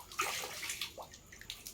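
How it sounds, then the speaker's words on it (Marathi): Water poured from a container splashes and spills in a short burst of close, irregular sloshing and pattering outdoors, with no talk. "पाणी सांडू नका"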